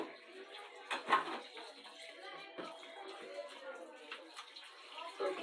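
Water runs steadily into a tub for washing smelly laundry, a continuous splashing flow with a few louder sloshes and clanks, heard fairly close throughout.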